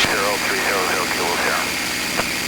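A P-51 Mustang aircraft engine drones steadily in flight, heard from inside the cockpit under a constant broadband roar, while a voice speaks over it.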